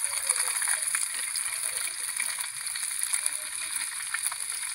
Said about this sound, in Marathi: तव्यावर टाकून घेते आता